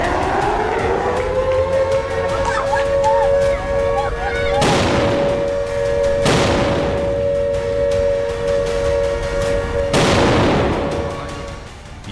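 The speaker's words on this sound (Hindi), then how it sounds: "यरूशलेम में भी कई धमाके हुए।" Three heavy blasts from an Iranian missile attack on Tel Aviv burst out a few seconds apart over a steady droning siren wail, each boom loud and rolling.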